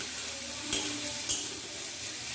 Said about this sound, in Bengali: এবার সব কিছু ভালো করে এইভাবে মিক্স করে দিচ্ছি